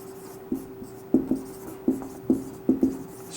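Hand writing on a surface during a chemistry lesson, a series of short tapping strokes and scratches at an uneven pace, close and clear over a faint steady electrical hum, with no speech.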